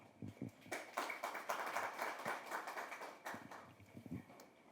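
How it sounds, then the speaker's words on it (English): Applause for a student presenter at a university research forum, a quiet, distant spatter of clapping from a modest audience that swells and then thins out, with a few separate claps near the end. "Can we please give her another round of applause?"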